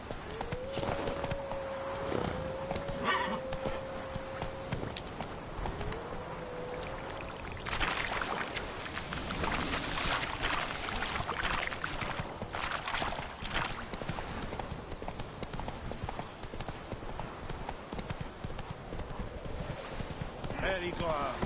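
Geralt's horse Roach gallops in The Witcher 3, a steady rapid clip-clop of hooves running throughout, with a rider's voice calling out briefly over it.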